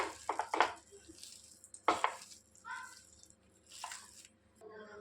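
Shami kebab mixture with chopped onion, coriander and mint is mixed by hand in a bowl, giving soft, close squelches and taps in an irregular rhythm.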